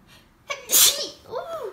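A single sharp sneeze up close, preceded by a quick intake of breath and followed by a brief voiced sound.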